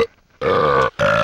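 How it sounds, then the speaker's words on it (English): Two loud, close burps come one after another with a brief pause between, each a drawn-out croaking belch from a video game's credits blooper sequence. "Burping chorus."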